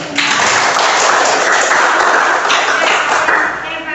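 A classroom of students claps together loudly in a dense, continuous burst that fades slightly at the end, with no talking over it.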